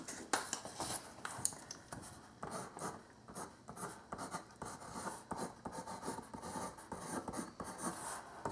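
Pencil writing on paper at a school desk, a soft, close series of irregular scratching strokes continuing steadily throughout.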